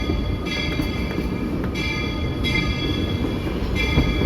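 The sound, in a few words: Walt Disney World Railroad steam train pulling into Main Street Station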